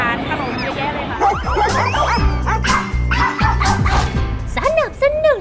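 Several dogs bark and yip in quick, excited bursts, close and loud, with whimpers mixed in and people talking underneath throughout.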